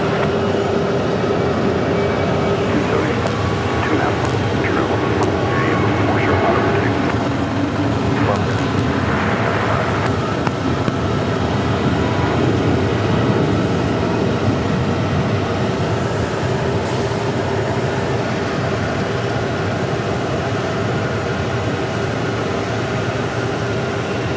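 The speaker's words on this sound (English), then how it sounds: "it is an Airbus A321 that will be making its way on out of the valley" An American Airlines Airbus A321, a new aircraft, departs Phoenix Sky Harbor bound for Hawaii, a steady broadband jet roar holding loud and continuous with some background rumble throughout.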